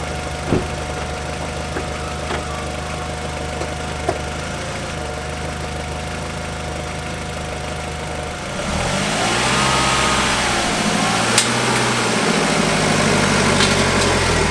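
An Audi TT, the cheapest example and one with oil leaks and engine issues, cranks and fires midway, then settles into a steady, fairly loud idle with a low hum that lasts to the end, with no talking.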